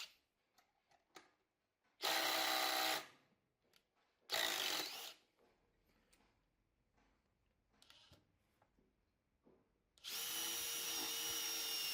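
A DeWALT DCF850 cordless impact driver set to third speed fires in three loud, close bursts of hammering whir, the last one longest, with quiet shuffling and taps between.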